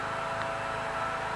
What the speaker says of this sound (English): The noise you can hear is the grass cutter.